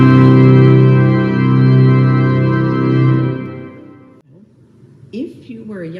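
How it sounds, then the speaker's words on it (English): Pipe organ sounding the opening chord of Saint-Saëns Symphony No. 3, loud and sustained for about four seconds before cutting off, followed by a brief spoken voice. "if you like to hear the opening of Saint-Saëns Symphony No. 3, it sounds like this."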